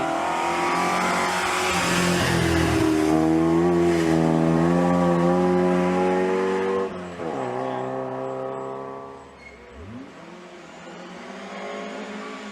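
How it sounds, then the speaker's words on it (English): A Fiat 124 ST historic rally car races along a rally stage, its engine revving hard through rising and falling gear changes, loud and close before easing off and fading as it passes. "Nigel Kelsall and Peter Davies were out on only their third championship event this year in their distinctive Fiat 124 ST."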